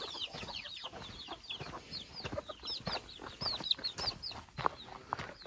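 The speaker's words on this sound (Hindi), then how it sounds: "भाई बाहर मुर्गे के बच्चे जा रहे हैं ओहो मुर्गा ये वो है" Kadaknath chickens and chicks cluck and chirp outdoors in busy, overlapping bursts, close by and fairly loud, with no talk.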